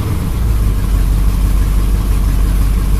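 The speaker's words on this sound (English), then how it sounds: "Oh yeah, it's idling fine." An old engine, either an El Camino or a 24-inch chainsaw, idles steadily after starting on stale gasoline, a loud, close, continuous low rumble with no voices over it.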